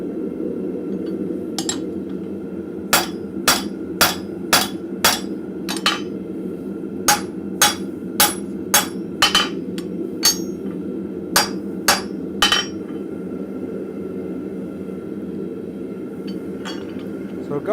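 A blacksmith strikes a drift on the edge of an anvil in a forge, with sharp metallic hammer blows ringing out in a regular series over a steady background hum before stopping.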